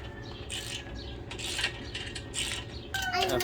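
A combination wrench ratchets and clicks against 14 mm bolts while a Pittsburgh foldable shop crane is assembled, in short bursts of metallic clinks and turning scrapes at close range.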